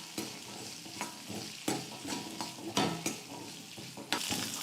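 Shallots sizzle steadily in a hot pan, with a spoon scraping and stirring at irregular intervals; no voices.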